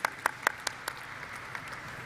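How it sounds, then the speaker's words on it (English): Applause at a stock exchange listing ceremony for a housing finance company: a few distinct claps up front fading quickly into a soft, thinning patter from a seated audience, moderately distant. "Let's have a huge round of applause for Mr."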